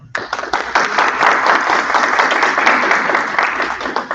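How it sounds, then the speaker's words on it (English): Loud, close audience applause for a speaker, many hands clapping in a dense sustained burst that starts abruptly and holds steady for about four seconds. "we give you a quick round of applause for Mikhail"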